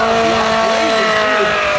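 Tires squealing as a Scion tC drift car on Hankook tires slides through a qualifying run at a drift event, a loud continuous screech with wavering tones and engine roar, crowd and commentator voices underneath.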